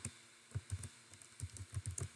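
Code is typed on a computer keyboard in short bursts of soft, close key taps with brief pauses between groups, quiet and without talk.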